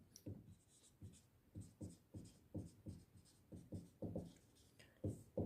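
A pen scratches across paper during a structural calculation, with short rhythmic strokes repeating about twice a second, close but faint, and no talk over them.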